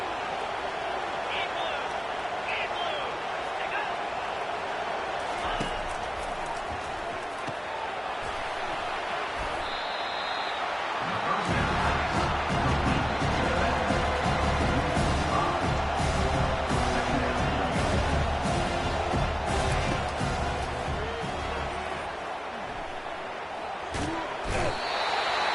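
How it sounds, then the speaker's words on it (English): Roaring stadium crowd in a college football video game, Florida Gators against Tennessee Volunteers, a dense sustained wash of cheering that swells louder midway, with commentary voices running over it. "Listen to this crowd just shaking the girders of this place, trying to help their defense."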